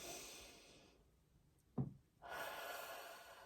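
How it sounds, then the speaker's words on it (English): A single deep inhalation during a calming breathing exercise, one short breath drawn in close to the microphone between stretches of quiet room hiss. "we're going to take 3 deep breaths"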